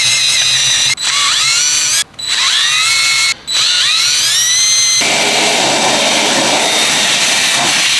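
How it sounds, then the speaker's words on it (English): A power drill with a 1/8 inch bit bores holes for a brake bracket on a Crazy Cart XL go-kart, whining in three short bursts separated by brief pauses, then giving way to a steady hiss. "Next guys, you're going to be getting your 1/8 inch drill bit here."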